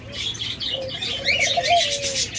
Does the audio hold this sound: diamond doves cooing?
yes